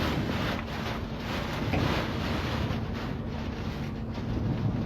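Strong storm wind gusts across Istanbul, a steady broadband roar buffeting the microphone for the whole stretch, with a low rumble underneath and no voices.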